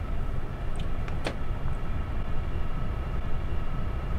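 Locomotive accelerating under traction in Train Sim World 4, a steady broadband rumble and drone holding level throughout, with a few brief higher squeal-like tones near the start.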